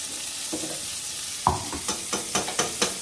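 Tomatoes sizzle steadily in hot oil while a spoon stirs and taps the pan in short, regular knocks.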